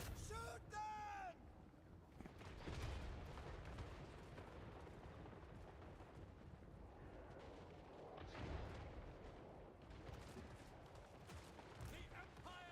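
Handgunner volleys crackle and boom in a Total War Warhammer 3 battle: a dense, rumbling wash of distant gunfire and clash runs throughout, with a few louder bursts rising out of the din.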